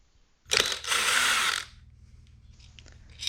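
A ratchet spins off 5mm socket head screws that hold an electric scooter's wheel rim to its hub motor: one loud, close burst of rapid clicking lasting about a second, then a faint mechanical hum.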